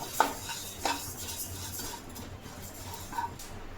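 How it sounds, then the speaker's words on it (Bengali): A utensil stirs ingredients for healthy laddus as they roast slowly in a pan on low heat. It makes soft scraping sounds and a few sharp metallic clinks over a faint, low sizzle. "আর এটাকে বারে বারে এইভাবে নাড়তে হবে।"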